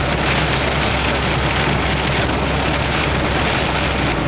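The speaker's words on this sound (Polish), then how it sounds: "Zobaczcie jak leje, naprawdę jest oberwanie chmury." Heavy cloudburst rain drums steadily and loudly on a small Fiat 126p car during a road rally trip, a dense continuous roar with no talking.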